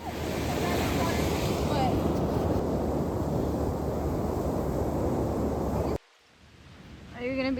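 Ocean surf at a California beach, with a loud continuous wash of breaking waves and wind buffeting the microphone, then a sudden cut to quiet with a person speaking.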